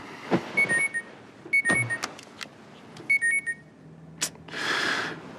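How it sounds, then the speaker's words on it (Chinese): An alarm clock rings in short repeated bursts of bright electronic beeps, clear and close in a quiet room, followed by a softer rustling swell like bedding moving. "你是不是定错闹钟？"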